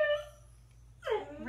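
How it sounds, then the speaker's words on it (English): A puppy whimpers and whines for attention indoors, two drawn-out high, wavering cries separated by a short pause, close by and clear. "Sounds like puppy wants attention."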